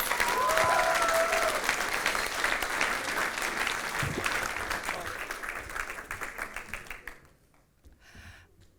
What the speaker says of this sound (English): Can we give Peter a round of applause?